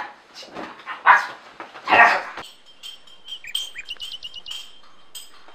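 Dogs bark in a few loud, sharp yelps close by, followed by fainter chirping and squeaky calls in a quiet outdoor setting.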